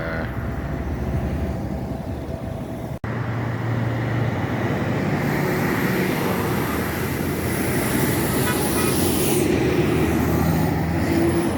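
A water truck rolls along a Jamaican highway, its engine and tire roar a continuous heavy rumble with a hiss of air brakes, building louder and closer toward the end.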